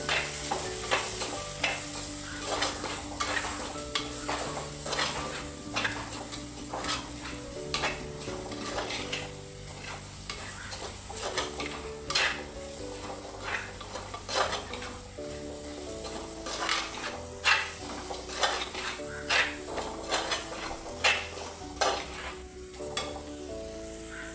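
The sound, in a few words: chilli powder being stir-fried for crab curry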